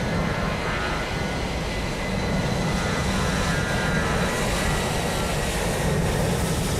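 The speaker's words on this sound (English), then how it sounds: "Listen to those roaring engines on takeoff." Airliner jet engines roar during a takeoff from Dallas/Fort Worth in a flight simulator game, heading for Los Angeles. The roar is loud, steady and broadband, with no talk over it.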